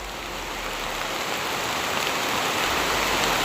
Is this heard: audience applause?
no